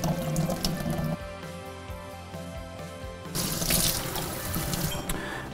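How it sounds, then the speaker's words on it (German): Canned corn and kidney beans are drained in a kitchen sink, liquid splashing steadily into the basin with a brighter, louder gush toward the end, no voices present. "gießen wir schon mal unser Mais und unsere Kidneybohnen ab"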